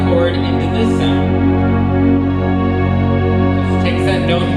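A sustained, rich chord played on a concert hall keyboard in open theater chord mode, a dense organ-like tone holding steadily at full volume for several seconds with slight swells of brightness.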